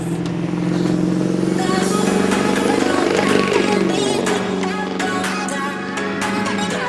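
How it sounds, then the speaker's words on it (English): A loud truck drives past outdoors. Its engine drone builds to a peak near the middle, then fades as it moves away, with some rattling over the top. "Loud ass truck."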